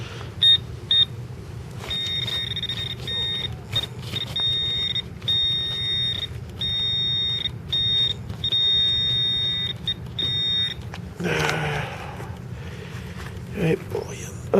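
A metal detector searching for gold outdoors repeats a steady high-pitched electronic tone in regular pulses, loud and close, then falls silent while someone speaks briefly.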